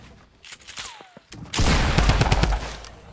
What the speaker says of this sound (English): There's one sniper shooting you west